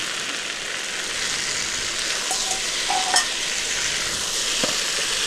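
Fried pointed gourd and potato are stirred in a sizzling pan, a steady frying hiss broken by a few scraping and clinking strokes of a utensil.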